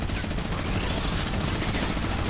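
A Gatling gun in the Fortnite Save the World mode fires a continuous, dense, rapid stream of loud shots that fill the whole short stretch without a break.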